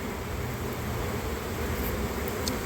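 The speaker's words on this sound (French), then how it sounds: "Avec des abeilles qui occupent les 2 côtés, donc ça c'est très bien" Honeybees on comb inside a beehive give a steady, continuous buzzing drone at close range, unbroken and even throughout, with no talking.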